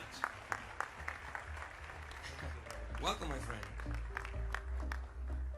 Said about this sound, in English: Just another applause for them